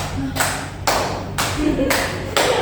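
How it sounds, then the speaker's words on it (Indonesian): A classroom of students does a five-clap rhythm: five sharp, evenly spaced claps in unison, close and clear, with faint voices beneath. "Nah, sekali lagi tepuk 5."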